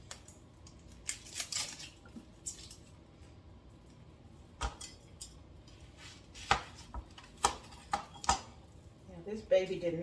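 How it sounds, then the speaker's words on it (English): A knife dicing a peeled vegetable on a board, with a run of sharp, irregular chops and taps close by, separated by pauses and followed by a few softer knocks. "let's get this baby diced up"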